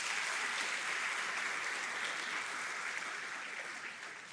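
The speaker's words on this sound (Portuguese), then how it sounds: "aplauda bem forte o nome de Jesus." A church congregation applauds loudly and continuously, a dense wash of many hands clapping together that fades slightly toward the end.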